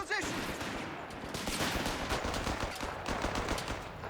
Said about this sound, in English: we've got the sniper out the back there, rattling off shots